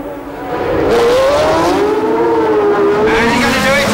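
Formula One cars with Cosworth Ford V8 engines scream past at high revs during a 1976 race, a loud rising and falling engine whine swelling near and sustained.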